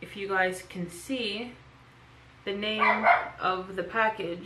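A pet dog barks and yips in short repeated bursts close to the microphone, mixed with a person talking indoors over the barks.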